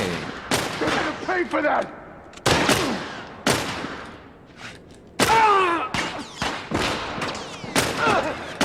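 Gunfire in the video game The Last of Us, with repeated sharp gunshot bursts and heavy thuds in uneven clusters, loud and close, with game voices and speech briefly between shots.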